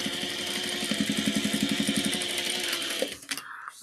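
A sewing machine stitches in a fast, even run of mechanical pulses, sewing a straight seam at a 3.5 stitch length with a backstitch, then stops abruptly and leaves a few faint handling clicks.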